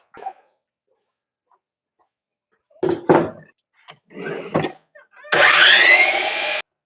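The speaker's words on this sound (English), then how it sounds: "So we're gonna cut this to 16 inches over to the miter saw." A miter saw cuts a board to length for a spline jig base, its motor whining loud and steady for just over a second near the end, after a few scattered knocks and handling sounds.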